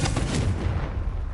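The Confringo spell explodes in the video game Hogwarts Legacy as a single loud, deep boom with a quick blast at the start, then a rumbling decay.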